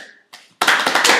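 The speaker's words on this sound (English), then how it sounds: "Let's applaud." A small group breaks into applause, with a few scattered claps at first and then a burst of brisk clapping from several people at close range.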